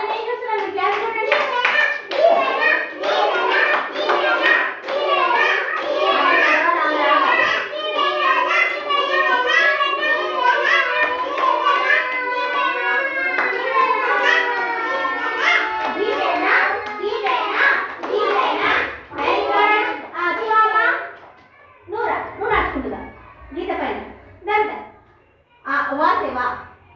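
Young children at a school activity clap their hands together in quick bursts, loud and close, mixed with children's voices talking and calling out over the clapping.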